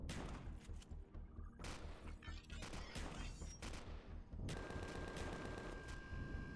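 Turret gunfire hammers a ship in the space game Empyrion Galactic Survival: dense, continuous bursts of rapid shots and impacts layered over a constant loud engine-like hum, with no pause throughout.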